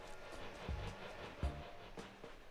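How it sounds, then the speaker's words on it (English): A train pulling in within the Japanese video game Animal Forest (Dōbutsu no Mori): a faint, distant rumble with a few soft, low thumps spaced roughly evenly, steady and without talk. "here comes the train, actually"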